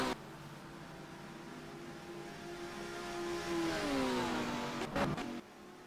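Touring car at Corby in the British Touring Cup sim race pulls hard out of the final corner, engine whine rising then shifting down in pitch, moderately loud with a brief clatter near the end, no voices.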